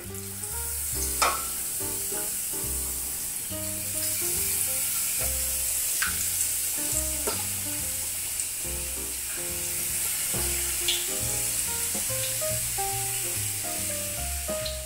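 Battered kabocha squash tempura sizzles and crackles steadily in hot frying oil, a continuous close bubbling hiss with occasional sharper pops.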